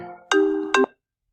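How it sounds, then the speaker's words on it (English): A mobile phone ringtone plays two short, bright melodic bursts up close, loud and clean, then cuts off into silence. "There's my phone."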